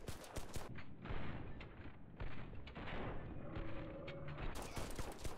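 Gunfire in the A3 H-Bar video game, a loud dense burst of shots at the start followed by continuous clattering fire, with more sharp shots near the end.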